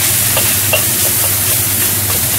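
Minced garlic and shallots stir-fried in a wok, a steady loud sizzle with scraping stirs throughout, no voices.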